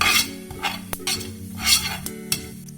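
Cumin seeds stirred in hot oil in a pan, giving a soft sizzle with intermittent scrapes and clinks of a utensil against the metal, close and moderately loud, with no voices.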